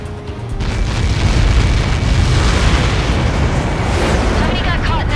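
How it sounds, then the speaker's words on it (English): A huge missile impact explosion in the flight combat game Ace Combat 7 sounds as a loud, sustained roaring boom with a rumbling low end that fills the whole stretch and does not fade. "How many got caught in that explosion?"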